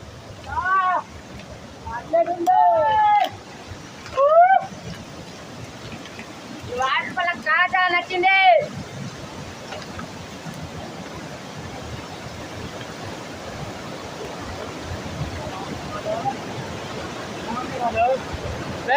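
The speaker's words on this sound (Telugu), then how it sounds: "వాటర్ ఫాల్ అయితే ఎంత మంచిగా ఉందో పైనుంచి అయితే రాయి నుంచి అయితే పడుతుంది" A waterfall pours down from rocks in a steady, even rushing hiss, fairly close and continuous, with voices talking over it in the first half before the water sound carries on alone.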